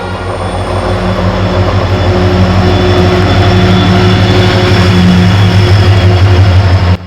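A train rolling past a rail crossing on a Dooars trip, a loud sustained rumble and droning hum that holds steady for several seconds with no voices.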